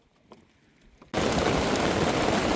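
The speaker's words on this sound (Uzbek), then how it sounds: "Orzuyimizga yomg'ir yog'ib yotibdi." After a quiet second, heavy rain suddenly pours down, a dense, loud, steady hiss of drops at close range lasting to the end.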